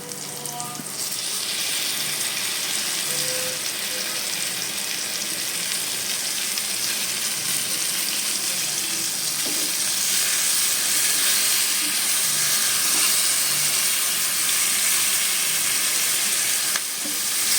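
Spice paste for doi pabda, a fish dish, hits a hot pan and erupts into loud, steady sizzling and frying hiss that swells after the first second and continues unbroken, with faint stirring scrapes.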